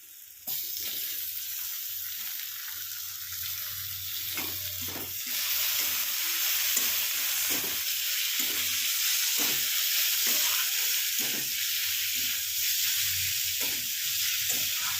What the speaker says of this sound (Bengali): এই ক্ষেত্রে এই সময় আমি এতে টমেটোগুলো দিয়ে দেবো।